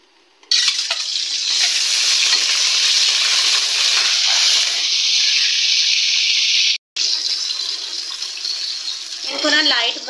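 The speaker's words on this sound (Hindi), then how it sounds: "ये अब गर्म हो रहा है, अच्छी तरह गर्म हो जाता है तो फिर इसके अंदर अंडे डालते हैं।" Eggs frying in hot oil in a pan give a loud, steady, close sizzle that runs almost the whole time, with one brief break near the end before the hiss resumes.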